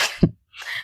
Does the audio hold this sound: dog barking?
no